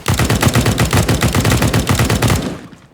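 Rapid automatic gunfire from a weapon in Counter-Strike: Global Offensive, a loud continuous burst of closely spaced shots lasting nearly three seconds before cutting off.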